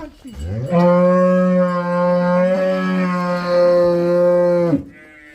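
Cattle and buffaloes on a farm give one long, loud, close moo that holds steady for several seconds before breaking off, with no talk around it.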